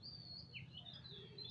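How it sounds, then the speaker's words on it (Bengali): Several birds chirp and tweet faintly at a distance, thin high calls overlapping against a quiet, low background hum. "অনেকগুলো পাখি কিচিরমিচির করছে, কি যে ভালো লাগছে"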